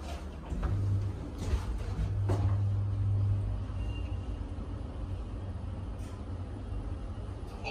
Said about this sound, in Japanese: 地上階では奥のドアが開きます